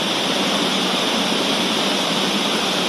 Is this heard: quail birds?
no